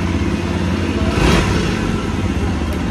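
A Jawa Bobber 42 motorcycle engine runs steadily close by, a continuous loud mid-pitched rumble with a slight swell of revs partway through.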